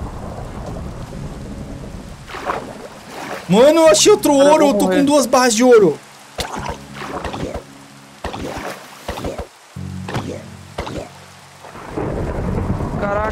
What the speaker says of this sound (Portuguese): Tá trovejando muito forte